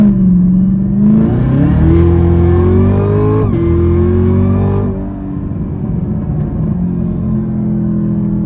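A 2022 Chevrolet Camaro ZL1 with a Corsa Extreme exhaust revs hard and climbs in pitch, drops briefly at a gear change into second, then pulls up again with a deep, steady roar on a multi-lane highway.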